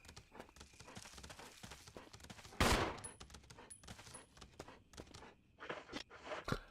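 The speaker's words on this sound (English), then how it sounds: "Maybe shooting a gun?" Gunshots ring out in the Resident Evil REmake video game, one loud, sharp blast standing out among scattered clicks and thuds, with a fainter burst of shots toward the end.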